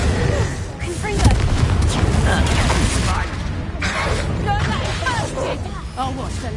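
Confringo fire blast spells in the video game Hogwarts Legacy, with booming blasts and mechanical clatter from a duel running continuously under voices and speech.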